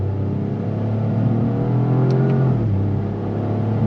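A 2025 Toyota GR Corolla with an 8-speed automatic accelerates with a loud, steady engine drone rising in pitch, then drops sharply as a gearshift comes partway through, heard from inside the car.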